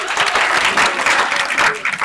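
An audience at a student science debate gives the winning team a loud, sustained round of applause, many hands clapping densely and continuously with slight swells.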